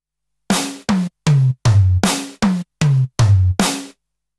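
A Yamaha DTX6 electronic drum kit is played with its sounds shortened and no gated reverb. Eight dry, tightly cut-off hits land in a steady pattern that alternates between snare-like and deeper drum sounds, with clear silence between them.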